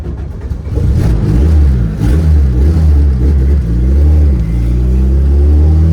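A big-turbo Honda Civic engine idles roughly and close up, its deep rumble lurching and surging unevenly as though about to stall, with no talk over it.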